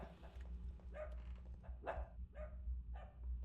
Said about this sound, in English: What were you barking at, dog?